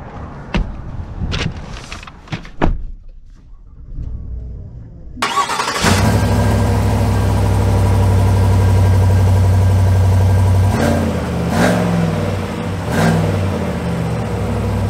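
A 2023 GMC Sierra 1500 SLT pickup starts after a few clicks and handling noises, its engine catching with a sudden roar, settling into a steady near idle, then giving two brief revs.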